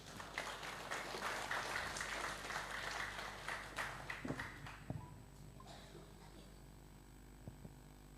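An audience claps in a hall, a fairly faint sustained round of applause that fades out after about five seconds, leaving scattered thumps and room noise.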